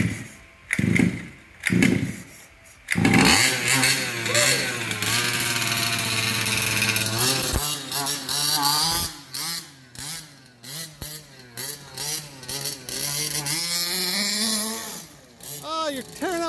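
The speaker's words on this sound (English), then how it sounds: "So now that we got the handle on, let's go rip this sucker. It's just like a weed eater." HPI Baja 5B gas-powered RC car with a small two-stroke engine like a weed eater, revving loud and close in rising and falling bursts over gravel, with short idle gaps and occasional voices.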